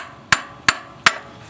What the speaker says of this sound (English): Then give it a few taps with a hammer to start it on.